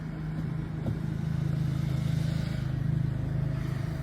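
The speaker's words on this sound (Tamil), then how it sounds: "பறவைகளோட சத்தம், அதோட வாகனங்களோட சத்தம்," A steady low engine hum of traffic passing on a street at sunrise in Djerba, Tunisia, continuous and moderately distant, with no voices.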